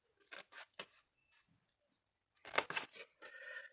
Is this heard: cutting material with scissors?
yes